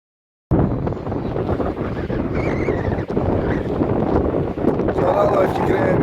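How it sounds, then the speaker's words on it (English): Strong wind buffets the microphone steadily at the seaside at Mablethorpe, a loud, continuous roar with gusts that swell toward the end, heard alone without talk. "you can see just how windy it is. Really, really windy."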